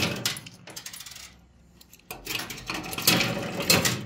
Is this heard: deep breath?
no